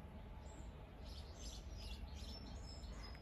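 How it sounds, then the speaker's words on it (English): Small garden birds tweet in the morning, several short high chirps scattered across a soft, steady outdoor hum, faint and somewhat distant, with no talking. "listening to the birds tweeting away"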